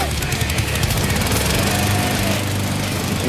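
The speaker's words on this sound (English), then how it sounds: "Can we make the dead alive lawnmower thing?" A lawnmower-based weapon in Dead Rising 2, its engine a loud, steady rattling drone that runs continuously at close range with no break.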